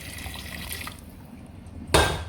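A brief splash of water poured into a pot of boiled beef for stew near the end, following a quiet stretch with faint kitchen background noise.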